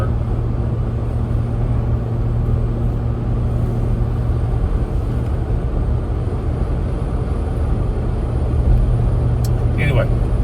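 A Jeep Gladiator cruises on a highway at 62 mph, engine around 3,100 rpm, producing a constant low drone of engine, tyre and road noise heard from inside the cab, steady and unbroken.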